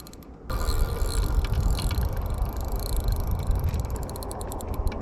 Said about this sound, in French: J'adore le bruit du carbone avec la tresse, c'est trop kiffant